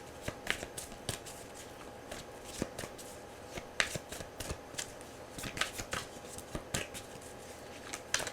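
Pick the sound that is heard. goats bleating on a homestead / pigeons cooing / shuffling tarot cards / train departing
shuffling tarot cards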